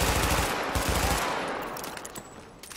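Loud sustained bursts of automatic gunfire from the video game The Division, a dense rattling barrage that fades slightly toward the end.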